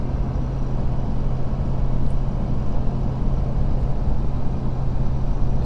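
Powerstroke diesel pickup towing 14,500 lbs up a hill in fifth gear, a steady loud low engine drone and road roar heard from inside the cab without letup.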